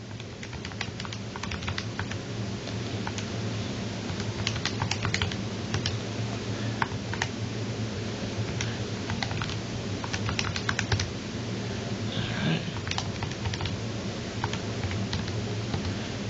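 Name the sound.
typing on a computer keyboard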